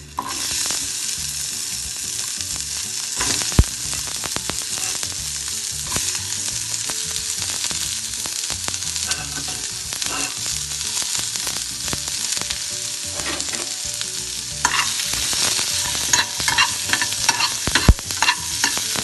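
Onions frying in oil in a pan, a loud, dense, unbroken sizzle with crackles and occasional scraping stirs throughout, close up and without speech.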